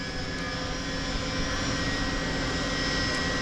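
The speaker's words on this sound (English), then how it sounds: "You hear that engine" A steady, loud jet-engine roar with whining tones, heard near a boat in Japan. It holds an even level throughout, with no audible rise from a start-up.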